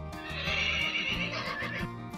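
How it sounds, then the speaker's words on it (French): A horse neighs in a long, shrill whinny that wavers and trails off, loud and close, with no voices. "À l'intérieur, un cheval à la crinière brillante hennit."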